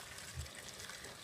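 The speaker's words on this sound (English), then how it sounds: "really all I do is just pour in the hot water, boiling kettle, a lot quicker." Hot water from a boiling kettle pours into a pot for boiling potatoes, a faint, steady splashing gush that runs continuously at low level with no voices.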